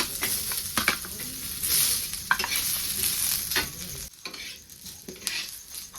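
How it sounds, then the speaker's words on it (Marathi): Onion roasts in a little oil in a pan, making a close, steady sizzle broken by spoon scrapes and taps as it is stirred. "त्याच्यासोबत आता कांदा पण भाजून घेते"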